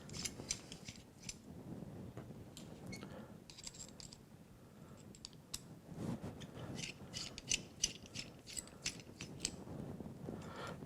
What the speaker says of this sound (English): once those 3 screws are undone, then you'll find that it pops out from the mounts quite easily